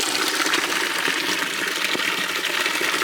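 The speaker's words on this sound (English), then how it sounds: "it's really overflowing, so it's a bit wet down here." Water overflows in a tunnel, a loud, continuous rushing gush with steady splashing and no breaks, echoing close by with no voices.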